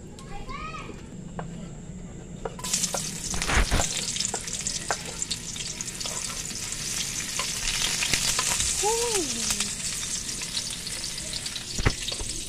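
Garlic fries in used cooking oil with a continuous close sizzle that swells after a short quieter start. Faint voices and children in the background sound under the frying, along with a few sharp knocks.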